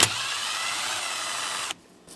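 A power driver spins a T20 Torx bit to back out the screw holding the ignition starter switch on a 2008-2010 Ford F-450, one steady close whir that cuts off abruptly near the end.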